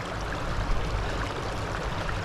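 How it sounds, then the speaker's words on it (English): Small waterfall on the East Dart river on Dartmoor, a steady broadband rush of falling and flowing water, moderately loud and continuous with no voices. "I think that is the waterfall up there."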